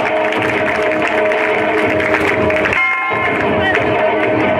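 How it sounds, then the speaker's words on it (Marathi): Audience at a school prize distribution applauding, a continuous loud crowd noise with clapping, a voice heard through it, steady from start to finish. "जोरदार टाळ्या"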